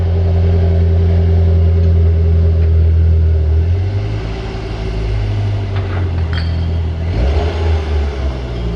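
Car engine rumbling steadily at close range inside a garage as the car is driven in and comes to a stop, a low continuous drone that drops off midway with a brief rev near the end; no speech.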